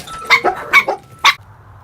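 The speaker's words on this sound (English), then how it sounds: "Oftentimes, her voice is compared to the yelping of dogs." Four or five short, sharp dog-like yelps in quick succession serve as the voice of Scylla, the six-headed Greek sea monster, loud and close with brief gaps, followed by quiet.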